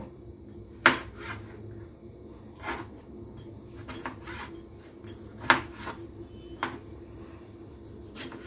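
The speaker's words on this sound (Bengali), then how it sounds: "এবার কেটে নিচ্ছি দুটো টমেটো।" A knife cuts through two tomatoes on a board, a few sharp separate clicks and knocks spaced several seconds apart over a quiet background, with soft rubbing sounds between them.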